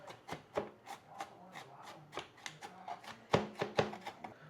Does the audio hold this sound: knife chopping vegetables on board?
yes